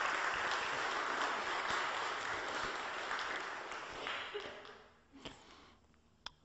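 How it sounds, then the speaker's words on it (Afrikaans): Audience applause fills a church at a celebration, a steady, dense clapping that holds for several seconds and then thins out into a few scattered claps near the end. "kom ons gee vir hulle lekker applous"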